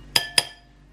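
A metal spoon clinks twice against a dish while scooping lemon curd, two bright, crisp taps a fraction of a second apart, close and alone in a quiet kitchen.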